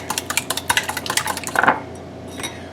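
Utensil clinking and tapping against a bowl while ingredients for pumpkin bread pudding are broken up, a quick run of light scraping knocks that slows and fades near the end.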